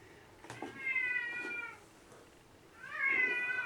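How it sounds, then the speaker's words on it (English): A domestic cat meowing indoors, two drawn-out, rising-and-falling meows separated by a short pause, fairly close and moderately loud with no talking. "Oh, my little pussycat's meowing."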